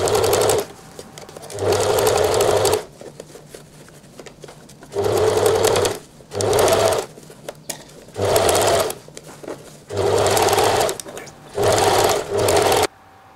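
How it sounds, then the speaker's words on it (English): A sewing machine stitches coat lining to a sleeve cuff in loud, even runs of rapid whirring, starting and stopping about seven times with short quiet pauses between bursts. "Now you want to sew this across, and that attaches the lining to the cuff."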